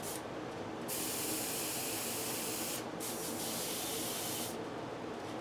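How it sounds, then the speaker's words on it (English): An airbrush sprays paint on the body of a C6 Corvette in steady bursts, a soft continuous hiss that cuts in and out a few times. "start spraying the whole body now"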